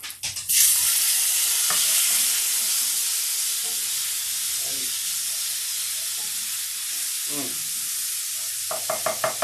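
Garlic hits melted butter in a pot with a sharp burst, then settles into a steady loud sizzle with a few clinks of a utensil stirring, no talking.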